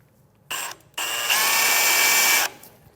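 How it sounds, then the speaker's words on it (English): A power drill with a 1/2-inch bit gives a short whir, pauses, then runs for about a second and a half with a rising metallic whine as it bites into the steel frame of a 2018 Ford F-150. "Now our next step is going to be drilling a 1/2-inch hole into the frame."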